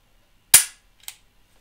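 A pistol dry-fired during MantisX training gives one sharp, fairly loud mechanical snap, then a second, softer click a half second later, with quiet on either side.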